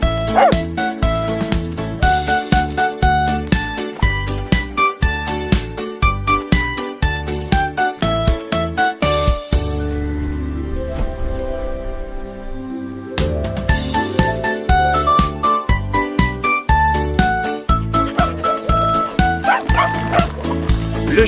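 A cartoon dog barks and yips in short bursts woven through a bouncy French children's song, with music running continuously and a brief softer break midway.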